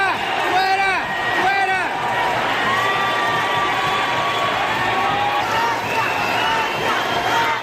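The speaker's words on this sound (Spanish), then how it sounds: "Entre abucheos y aplausos" Crowd at a public government event in Popa greets Vice President Francia Márquez with a mix of boos and applause, a dense continuous roar with shouts and whistles rising and falling.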